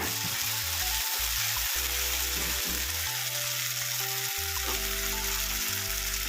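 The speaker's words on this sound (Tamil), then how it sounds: "அதையும் போட்டு நல்லா வணக்கிடலாம்" Onion and tomato sautéing in a pan for a spicy chickpea kurma, giving a steady close sizzle with scattered scraping and stirring noises and no talking.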